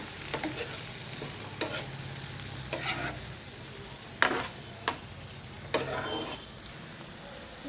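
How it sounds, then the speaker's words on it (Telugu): Brinjal and tomatoes frying in oil in a pan for vankaya curry, stirred with a utensil: sharp intermittent scraping strokes over a soft, steady sizzle, with no talking. "వంకాయలు ఆయిల్లో ఒక 2 minutes మగ్గనించుకొని ఇప్పుడు టొమాటోస్ కూడా వేసుకోవాలి. టొమాటోస్ వేసుకునే విధంగా బాగా కలుపుకోవాలి."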